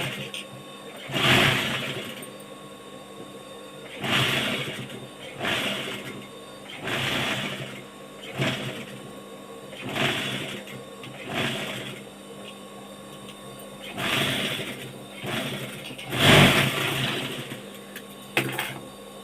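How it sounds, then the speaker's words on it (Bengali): A sewing machine runs in repeated short bursts while stitching a nightie, with each run of rapid needle clatter separated by brief pauses, close and fairly loud. "এবার সোজা পিঠ দিয়ে একটা সেলাই দিয়ে নেব"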